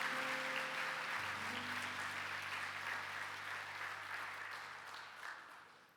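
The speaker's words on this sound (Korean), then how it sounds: "2025년 임마누엘 찬양대 모두가 은혜의 통로가 될 수 있도록 다시 한번 따뜻한 축복의 박수로 함께" A church congregation applauds to bless the choir, with warm even clapping that slowly fades toward the end while a low sustained tone hums beneath it in the first seconds.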